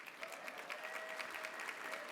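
Steady applause from a gala audience fills the room throughout, an even, dense crackle of many hands clapping at once. A faint voice sits underneath.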